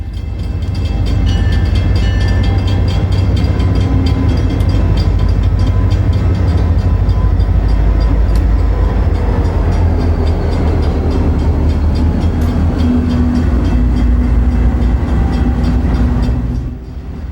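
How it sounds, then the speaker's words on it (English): A Union Pacific general merchandise freight train, led by a former SP tunnel motor, rolls loudly and continuously through a city street, with a heavy rumble and clattering wheels that fade slightly at the end. "A Union Pacific general merchandise freight is next to arrive"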